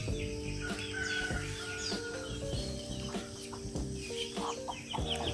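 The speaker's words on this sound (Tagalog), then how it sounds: "mga manok ko" Chickens cluck repeatedly on a farm, several birds close by in overlapping calls, with steady background music running underneath at fairly low overall level.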